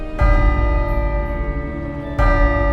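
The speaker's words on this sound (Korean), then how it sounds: "마을의 시계탑 종소리가 들리자" A village clock tower bell rings loud and close, its sustained tone starting, holding for about two seconds and then struck again near the end, with no talking.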